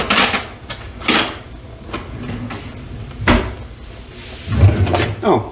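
Kitchen drawers slide open and shut with wooden knocks and rattling clatter while someone searches for a spoon during cooking, several quick bangs spread over a few seconds, close by with faint background noise.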